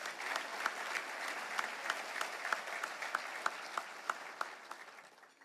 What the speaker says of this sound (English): let's give Jim Patterson a round of applause